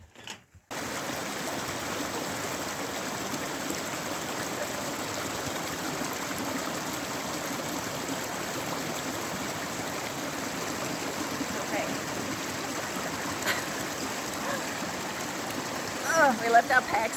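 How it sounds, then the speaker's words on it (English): A wilderness stream below a waterfall in New Zealand rushes in a steady, continuous wash that starts abruptly and holds evenly, close and moderately loud, with a faint stir of movement near the end. "We left our packs back there so we could walk up to this waterfall."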